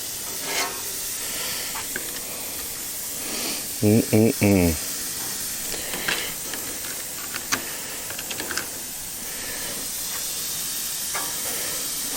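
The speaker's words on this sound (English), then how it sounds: "Hear that sizzle." Soft, steady sizzling hiss of food on a hot Monument Grills Mesa 305 gas grill, with a brief burst of voice partway through and scattered clicks.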